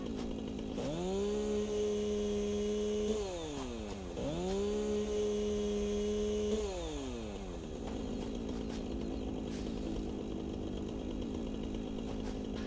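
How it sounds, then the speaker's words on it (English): Chainsaw cutting a tree in the video game Satisfactory, with a steady engine drone that rises in pitch twice as the saw bites in, each cut holding a few seconds before winding down, then settling into idle. "because I've got the chainsaw, it won't let me pick it up, but I can cut it."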